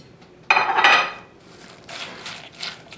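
Crispy bacon being mixed into chicken waffle batter in a bowl, a loud clatter of a utensil against the bowl followed by softer scraping stirs, close with no talk.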